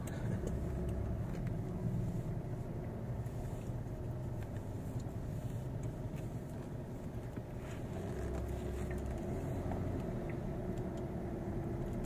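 Dense car traffic on Loyola Street, Don Pedro, with a steady, continuous rumble of passing engines and road noise, fairly loud throughout with some wind buffeting and no voices.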